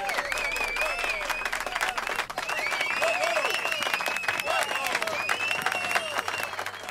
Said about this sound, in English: Well, I guess we'll all clap now.